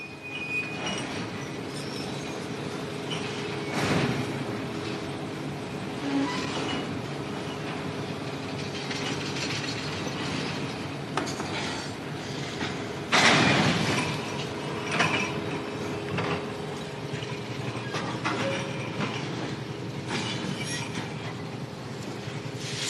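A long freight train's wagons roll over the rails in a steady, continuous rumble with rhythmic clanks and mechanical rattles, a couple of louder jolts standing out, moderately loud and with no voices.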